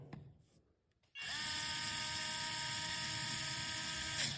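After a short quiet pause, a power screwdriver whirs steadily as it drives a screw into a mobility scooter footrest, a close, continuous high-pitched motor whine that holds to the end.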